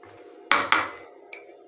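A knife cuts finely through an onion for a kidney bean salad, giving two sharp close chops on a board followed by a faint light tap, with no talking.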